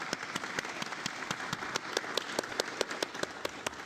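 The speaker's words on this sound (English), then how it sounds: "Could we give her a round of applause," Applause in a city council chamber after a councillor's maiden speech: steady clapping from a modest group, with a few louder individual claps standing out.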